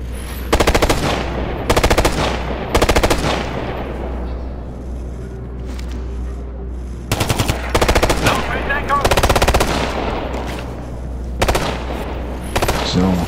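Assault rifle suppressive fire in the video game Ghost Recon Future Soldier: loud bursts of automatic gunfire in repeated volleys, separated by short pauses, over a constant low rumble of battle.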